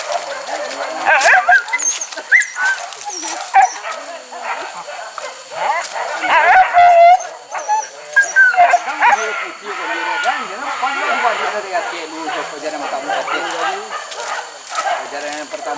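Several hunting dogs on a wild boar hunt bark and yip repeatedly in an irregular, excited chorus, mixed with whimpers and people talking and shouting nearby.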